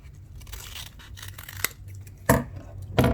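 Scissors snip through craft paper while a paper fashion-girl figure is cut out, with soft scraping cuts followed by two sharp, distinct closing snips near the end, close and fairly quiet, with no talk.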